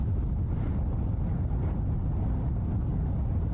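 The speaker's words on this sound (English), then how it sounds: "Listen to that wind." Wind rushing against a microphone in a music video, a loud steady low roar that continues without break, no voices.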